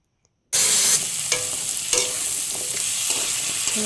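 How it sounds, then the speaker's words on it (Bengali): Cumin paste frying in a kadai, bursting into a loud, bright sizzle after half a second of silence, with spatula strokes scraping through it several times, close up. "জিরে বাটা দিয়ে দিলাম, একটু নেড়ে চেড়ে তারপর আলু দিয়ে দেবো কড়ার মধ্যে"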